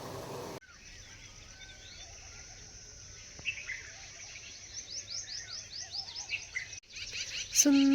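Morning birdsong on a rural farm: quick repeated chirps and short sweeping calls, fairly faint and distant, over a steady insect-like hum, with no talking.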